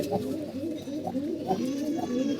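Pigeons kept in a loft during hot weather coo in repeated soft, throaty phrases, several birds overlapping close by in a steady rhythm.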